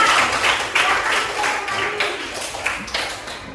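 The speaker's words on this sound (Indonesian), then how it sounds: "kasih tepuk tangan dulu untuk kelompoknya Zidan" Classroom of students clapping for a student group after a presentation, a steady patter of many hands that stays fairly even and close throughout.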